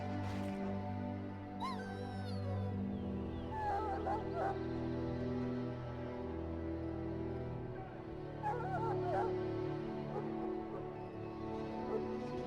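A dog whimpers, yips and gives short bark-like cries in the game Dragon Age Origins, several high whines scattered over a steady low game background hum, fairly close and clear.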